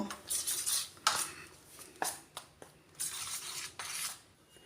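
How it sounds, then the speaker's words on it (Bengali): A metal spoon scrapes and clinks against a bowl while papaya and lentil batter is mixed for fritters, with bursts of rhythmic stirring and short pauses; close and fairly quiet, no talking. "এটাকে এবারে মিশিয়ে আমি তৈরি করে নেব"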